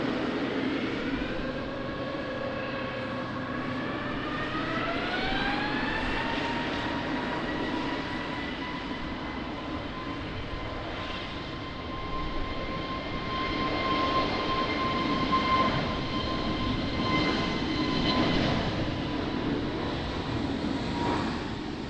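Airliner taking off on runway 20 at Lisbon Airport in rain and wind, a steady loud engine roar with a whine climbing in pitch as it spools up and holds, rumbling on throughout.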